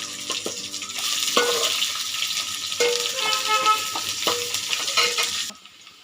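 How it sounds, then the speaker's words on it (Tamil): Three medium large onions, sliced lengthwise, sauté with curry leaves in a pan for an egg gravy, giving a steady sizzle broken by repeated scraping stirs. The sound is close, with no talking, and cuts off near the end. "வெங்காயம் நல்லா வதங்கிடுச்சு"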